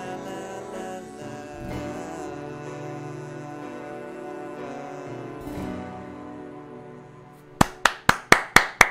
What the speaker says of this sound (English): Applause for that guy, for Massimo Lesti.